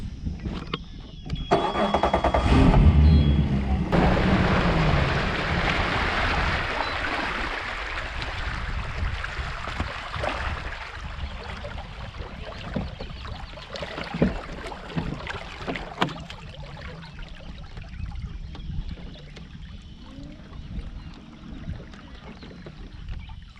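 A boat motor idles on the water while moving slowly around a corner during frog fishing at Grosse Savanne, a steady low rumble that swells loud early and then settles into a softer continuous drone.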